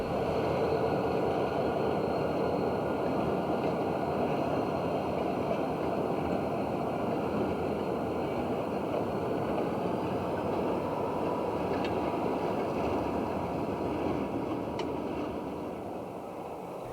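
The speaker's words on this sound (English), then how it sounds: "The train frequently stops in South Paris to pick up and drop off cars." A train on the Sandy River Railroad in winter, heard as a steady, continuous rolling rumble that stays even from start to finish and eases off slightly at the end, with no voices.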